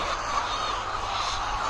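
A dense chorus of BV300 layer hens clucking and squawking together in a caged poultry farm, a continuous crowded din from many birds close by.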